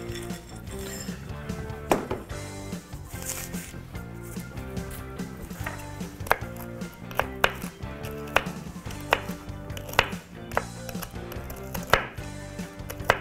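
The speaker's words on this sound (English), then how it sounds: "Just a rough chop, not a fine chop. Just break them up" Toasted peanuts being roughly chopped with a knife on a board, with irregular sharp thuds and knocks repeating throughout over a steady background of music.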